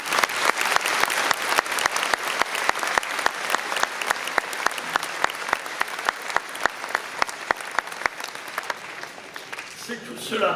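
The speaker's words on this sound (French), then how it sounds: "je crois que vous pouvez tous les applaudir." An audience at a New Year's greetings ceremony in Belfort applauds performing artists, the crowd clapping in a fast, regular rhythm with sharp claps in unison. The clapping stays fairly loud, then breaks up and fades near the end.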